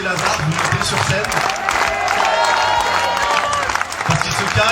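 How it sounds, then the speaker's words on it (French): A festival crowd claps and cheers in a busy, continuous wash of applause, with a loud voice talking over it. "Si vous applaudissez fort, peut-être que Milou des Lazars vous montez sur scène."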